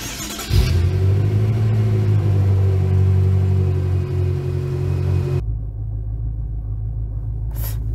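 A car engine rumbles loudly and steadily as the vehicle pulls away, with a rising drone over the first seconds before the sound drops to a lower, muffled hum near the end.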